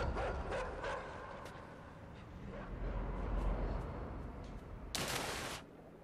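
In the video game Inside, dogs bark in a run of sharp, distant yelps over a dense rumbling game soundscape, with a louder burst near the end and no talk.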